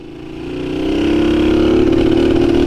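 A Honda Fan 125 motorcycle with a worn clutch revs up from a quieter start, its engine note climbing smoothly to a loud, steady buzzing drone close by.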